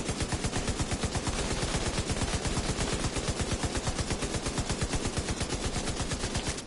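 Light machine gun fire in The Division 2 video game, a dense unbroken burst of rapid, evenly spaced shots that continues at a steady loud level throughout.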